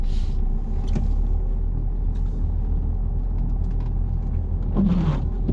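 A car rolls along at low speed on a French driving-test route, a steady engine and road rumble heard from inside the cabin, with brief knocks near the start and a short squeak near the end.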